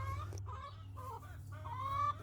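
Chickens cluck in a backyard run, a series of throaty clucks and calls close by over a steady low background hum, with no talking.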